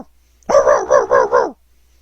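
A voice imitates a watchdog, giving a run of five rhythmic, close, loud barks in quick succession with nothing else around them.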